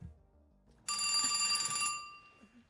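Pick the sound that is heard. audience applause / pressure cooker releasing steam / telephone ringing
telephone ringing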